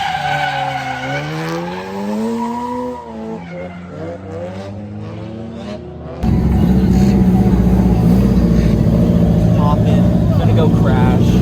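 A Mazda RX-7 drift car at a Japanese drift event, loud rotary engine revs rising and falling, then a sudden sustained roar of tire squeal and skidding right up close.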